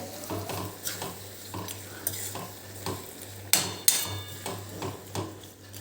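Raw mango curry with jaggery being stirred in a pot, a spoon scraping and knocking against the metal in irregular strokes over a steady low sizzle, with two sharper clinks midway.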